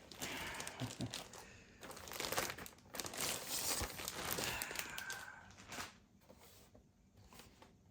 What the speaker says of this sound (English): Now I'm gonna get the laptop out here.